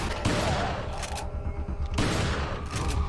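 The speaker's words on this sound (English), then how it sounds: "I'm gonna shoot you with my shotgun" Shotgun fire in the PC game Resident Evil 4, loud and dense with blasts running together into a continuous barrage that swells again partway through.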